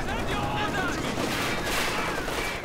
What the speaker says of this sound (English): He's focus firing this 50 cal.